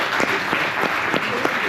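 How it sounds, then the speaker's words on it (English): An audience at a Cosmos builder conference claps for its panelists, filling the room with steady, dense applause from a crowd, with a few sharper individual claps standing out and a voice faintly audible underneath. "Round of applause for our panelists, everyone."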